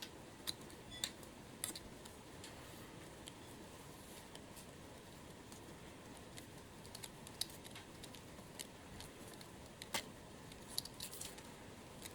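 Scissors trim the end of a thin wire for a gumpaste flower, making a few faint, crisp snips and small clicks spread over a quiet room hiss.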